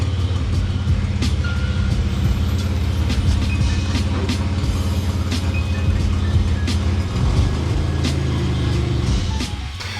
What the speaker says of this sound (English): you might have been able to hear there the rather constant belt whine that is coming from the truck in general